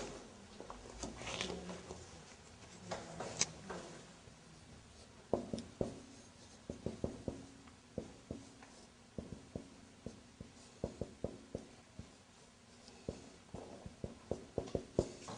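Pen or chalk writing during an Arabic lesson, with a steady series of close, short taps and strokes in an irregular rhythm that grow more frequent toward the end.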